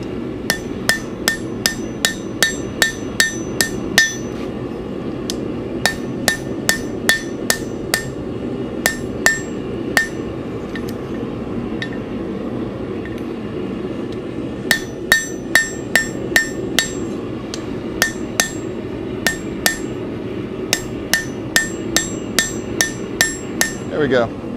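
A blacksmith hammers hot iron on an anvil while forging a door latch, striking in quick bursts of sharp ringing blows with short pauses between runs, loud and close.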